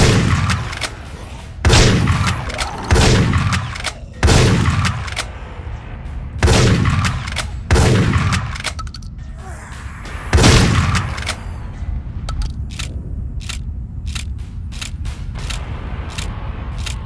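Rapid gunfire from the video game Dead Effect on Hell difficulty, with bursts of loud booming shots and one bigger blast, followed by a stretch of scattered sharp cracks over a steady low background rumble.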